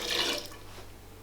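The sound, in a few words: diluted rennet poured into water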